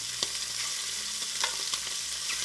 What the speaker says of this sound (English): I'm only putting them in this pan to get grill marks